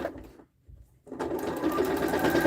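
A sewing machine stitching a patchwork duffle bag runs in a quick mechanical whir, halts for about half a second, then starts again and keeps going, close by.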